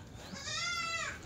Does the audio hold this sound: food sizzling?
no